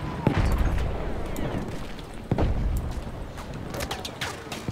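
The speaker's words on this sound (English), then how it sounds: "they're shooting from a distance" Distant gunfire booms and cracks in Battlefield 1 multiplayer near a tank, with several sharp shots and explosions scattered across a loud, rumbling battlefield backdrop.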